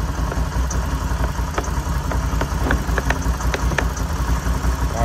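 A Can-Am Renegade XMR 1000 ATV engine runs steadily at idle with a low, throbbing rumble, and a few faint clunks and clicks come through as it is shifted.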